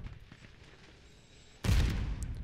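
Rapid automatic gunfire from the RAM-9 submachine gun in a video game bursts in loudly partway through, a dense continuous stream of shots after a quieter stretch of faint background noise.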